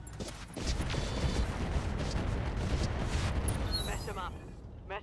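Weapons on a mech fire at an Oscout in the game RogueTech, a dense, continuous barrage of heavy gunfire and blasts that rolls on loudly for several seconds before easing off.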